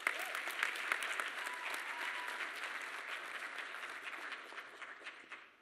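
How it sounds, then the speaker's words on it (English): A round of applause from an audience at a Leavenworth Education Foundation event, steady mid-sized clapping that starts full and gradually thins and fades toward the end. "If you could give her a round of applause, please"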